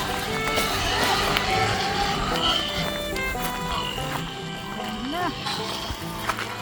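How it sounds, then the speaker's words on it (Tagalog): Pigs squealing and grunting on a Filipino pig farm during pen cleaning, sharp rising squeals scattered over a noisy barnyard background with voices talking nearby. "Guys, naririnig niyo ba yun? Yung mga iyak ng baboy?"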